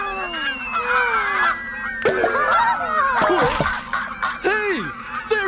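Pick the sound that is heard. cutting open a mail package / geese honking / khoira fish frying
geese honking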